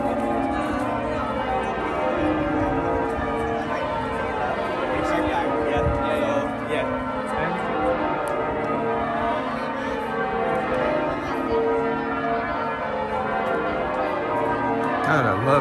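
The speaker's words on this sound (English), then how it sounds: "God, I love the music of the bells." Overlapping church bells keep ringing across York's old town, a steady layered pealing heard at moderate distance over outdoor street ambience, with faint voices mixed in.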